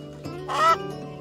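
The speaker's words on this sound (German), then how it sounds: "Kann ich das Huhn hier rausholen?" A chicken in the survival video game Keep Up Survival gives a single short, fairly loud cluck over a steady low background tone.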